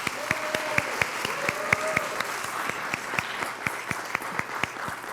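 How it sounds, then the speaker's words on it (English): An audience at a school board meeting applauds, a steady patter of individual claps that carries evenly through the room at moderate distance, with no one speaking over it. "Let's give them a big round of applause"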